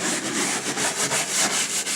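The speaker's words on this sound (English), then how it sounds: "I'm not scrubbing hard. I'm just turning the brush around onto the table." A stiff brush scrubs back and forth across a weathered wooden deck table outdoors, a steady, close, abrasive rasp with rhythmic strokes and no talking.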